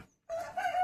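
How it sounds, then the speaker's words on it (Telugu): A rooster crows close by in one short, loud, tonal call that starts abruptly after a brief silence, heard on its own in a domestic kitchen setting. "కోడి మొత్తుకోవడమే ఎక్కువ ఉంది"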